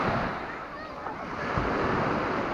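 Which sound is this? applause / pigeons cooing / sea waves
sea waves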